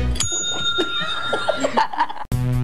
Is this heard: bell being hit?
yes